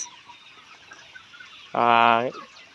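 A Kazi Hi-line Brown layer hen in a farm shed lets out one loud, close cluck-like call of about half a second, rising out of a quiet background of distant bird noise.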